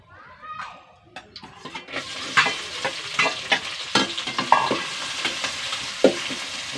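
Crushed small shallots fry in coconut oil, a steady close sizzle broken by repeated scraping stirs with a spoon, starting after a brief quieter moment.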